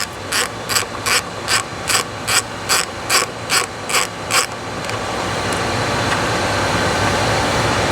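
A ratchet fitted with a 13mm socket clicks in about a dozen quick, evenly spaced strokes, close and loud, while removing body bolts from a 2015-24 Ford Mustang, then gives way to a steady mechanical hum.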